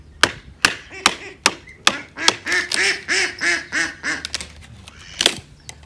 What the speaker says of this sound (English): I do apologise about the ducks